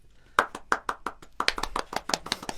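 A few studio guests on a radio show clap close to the microphone, a handful of sharp claps at first that quicken into a brief, uneven patter.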